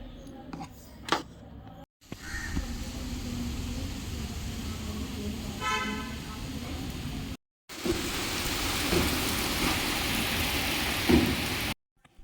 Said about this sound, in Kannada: ಜೋರಾಗಿ ಬರ್ತಾಯಿದ್ದೆ ಮಳೆ